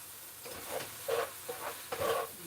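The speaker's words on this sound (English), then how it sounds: "Stir this around" Chili with tomato sauce being stirred in a pot, soft scraping and wet sloshing strokes coming in several short bursts against a faint background hiss, close and fairly quiet with no talking.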